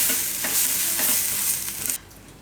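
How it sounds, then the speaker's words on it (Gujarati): Pav bread buns toasting in oil on a pan for paneer bhaji: close, steady hiss of sizzling oil with soft scraping and stirring taps, ending abruptly after about two seconds. "તો ઘરમાં જેટલા પાઉં જરૂર પડતા હોય એ રીતના આપણે શેકી લેવાના એમ."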